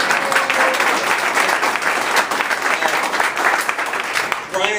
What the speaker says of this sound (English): go ahead, give him applause